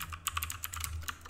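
Quick run of keystrokes on a computer keyboard while a command is entered during an Ubuntu 18.04 web server setup, crisp clicky taps in an irregular burst, close and fairly quiet, with no talking.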